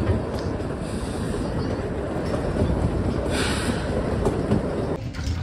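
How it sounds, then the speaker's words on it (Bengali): The Shimla–Kalka toy train rolls through forest in Himachal Pradesh with a dense, continuous rumble and rattle of carriages. It is steady and fairly loud throughout, heard from on board. "তার মাঝখান দিয়ে যাচ্ছে ট্রেন"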